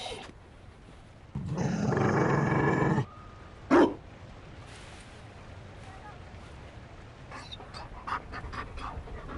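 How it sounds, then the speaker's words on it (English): A Mabari war dog in Dragon Age: Inquisition pants heavily in a loud, rough burst lasting almost two seconds, then gives a short sharp growl. Quieter ambient game sound continues afterward. "You found a dog?"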